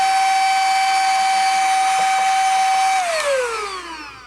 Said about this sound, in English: I'm going to take the tip of the vacuum.